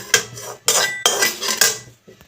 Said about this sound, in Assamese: এই ডিছখনত কাঢ়ি ল'ম